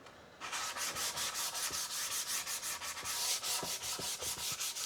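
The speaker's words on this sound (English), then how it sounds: "just to make sure we're not sanding any flats into them" Steady back-and-forth rasping of a hand sanding pad on the wood of a Flying V guitar, a rhythmic scratchy stroke repeating roughly every quarter second, close and continuous.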